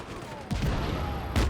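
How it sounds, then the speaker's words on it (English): A gas station blowing up in the Just Cause video game, a rumbling burst of explosion and debris under ongoing game noise, with a second loud blast near the end. "there will be a huge explosion."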